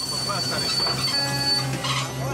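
A passenger train braking on a railway track in Congo, its wheels squealing on the rails in sustained high-pitched tones over a steady low rumble of the moving cars.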